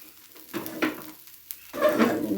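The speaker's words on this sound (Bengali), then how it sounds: "এখানে আমি বেগুন ভাজা বসিয়ে দেব।" Eggplant frying in soybean oil in a home kitchen, giving short bursts of bright sizzling that swell and fade in uneven surges over a couple of seconds.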